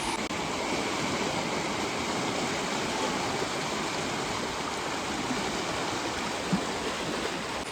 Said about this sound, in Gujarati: જો તમે કેવું પાણી આવે છે ને કેટલું બધું પાણી આવે છે